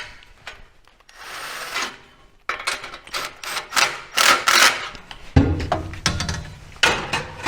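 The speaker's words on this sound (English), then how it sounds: "I'm going to just slide it forward in a straight section, making sure I keep that" Metal exhaust pipe on a 2019–2024 GMC/Chevy truck with the 6.2L engine being slid forward through the factory mount, giving uneven scraping and rubbing bursts with clunks, close and fairly loud, with no talking.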